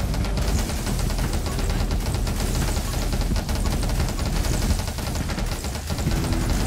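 Lightning-triggered explosions in 20 Minutes Till Dawn, a dense, continuous barrage of rapid crackling blasts and pops that stays loud and busy throughout, like sustained automatic fire, with no talking.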